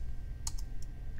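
A few soft, separate keystroke clicks on a computer keyboard while a command is typed into a Linux terminal, with a steady low hum underneath.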